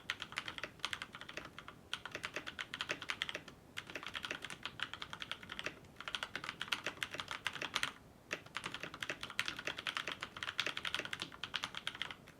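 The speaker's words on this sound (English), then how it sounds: "listen to the sound of the keyboard" Fast, continuous typing on a mechanical keyboard at a budget desk setup, crisp clacky keystrokes in steady bursts with brief pauses, close and clear with no talking.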